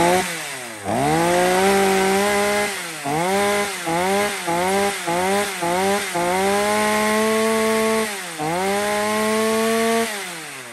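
A used Japanese chainsaw engine idling and revving smoothly, loud and close, with a steady drone broken into repeated rising throttle blips and a final longer rev.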